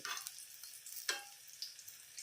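Garlic cloves and curry leaves fry quietly in a pan, a faint sizzle with scattered crackles and a few louder pops, no voices.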